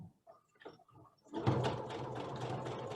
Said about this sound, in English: with a sewing machine, when you first start sewing, you want to do a couple stitches and then just do a back stitch